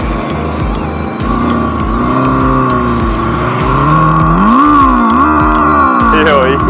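Simulated engine sound played from the speaker of a RAKATA electric motorcycle, a loud revving race-car-like tone that climbs and falls in pitch with tire-squeal-like sweeps, close and continuous.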